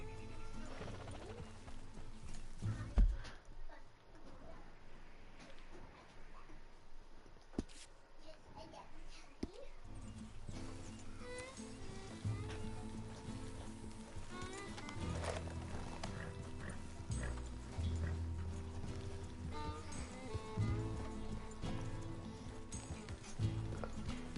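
Horse hooves clip-clop steadily through a busy Red Dead Redemption 2 game soundscape, with a low rumbling bed and occasional brief voices or whinnies mixed in at moderate volume.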